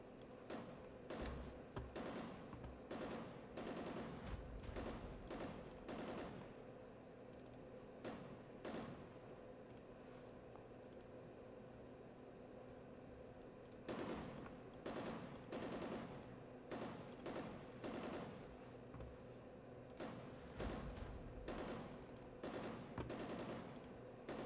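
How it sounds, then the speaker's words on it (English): Bursts of gunfire sound effects during a Delta Green tabletop role-playing game, arriving as clustered volleys with gaps of quieter room tone between them, fairly faint overall. "More shots being fired."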